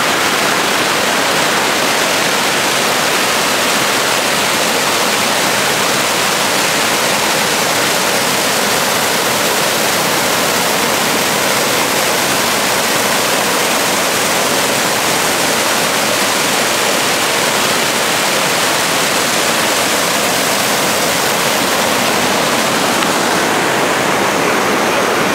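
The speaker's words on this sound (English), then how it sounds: "No, this is Petawawa River." Rushing water of the Petawawa River in Algonquin Park, a loud, steady broadband roar like rapids or a small falls, continuous and close for the whole stretch with no voices.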